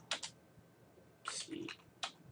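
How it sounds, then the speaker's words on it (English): A few crisp computer mouse clicks, quiet and close, spaced out in short bursts with no talking. "Just click here."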